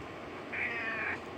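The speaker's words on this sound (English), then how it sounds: "Oh, meow, meow, meow." A cat meows once, a short drawn-out cry standing out over a quiet background hum, heard during a Final Fantasy 7 play session with no voices present.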